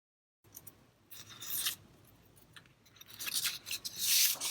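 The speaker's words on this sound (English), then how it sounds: "I'm just going to use this as a template to cut out my backdrop." Scissors cutting a paper backdrop along a template, rasping snips and paper rustle that build in bursts, close and fairly loud, with no talking.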